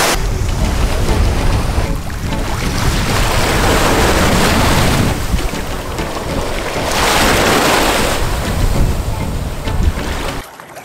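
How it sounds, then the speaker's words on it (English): Ocean waves surge and break in loud swelling washes on an Anna Maria Island beach, rising and falling every few seconds, with heavy wind buffeting the microphone. "The waves are fun"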